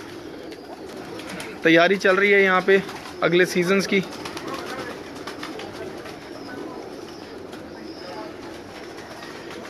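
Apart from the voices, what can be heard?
pigeons cooing on a rooftop loft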